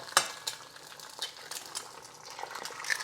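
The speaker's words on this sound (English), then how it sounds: "It did start frying pretty quickly, but not as quickly as last time." Eggs fry in avocado oil in a pan, a soft continuous sizzle, close and fairly quiet, broken by a few sharp clicks and scrapes from a utensil against the pan.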